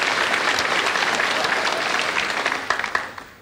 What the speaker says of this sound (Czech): Bohužel mám teď daleko větší potlesky na začátku než po vystoupení.